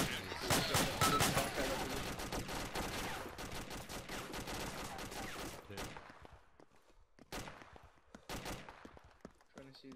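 Game gunfire from the Arma ACE Insurgency mod, shots coming from a rooftop: rapid dense bursts of loud shooting for several seconds, then scattered separate shots with quieter gaps, voices faintly underneath.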